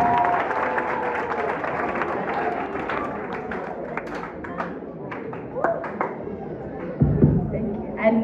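Debate audience applauding, a steady wash of clapping and crowd chatter through the whole stretch, with louder claps and knocks near the end.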